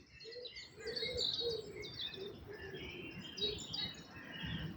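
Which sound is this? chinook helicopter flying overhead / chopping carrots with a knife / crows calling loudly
crows calling loudly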